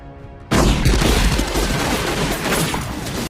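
Gunfire from a military firefight in a movie scene: after a brief quiet moment, dense loud bursts of rapid shots and booms break out and keep going without pause, close and harsh, no voices.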